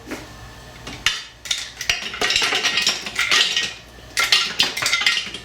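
Hard frozen butter cubes clattering and bouncing inside a Vorwerk Thermomix TM6 bowl while making quick puff pastry, a rapid metallic rattle of pieces striking the blades and walls, loud and continuous with brief pauses.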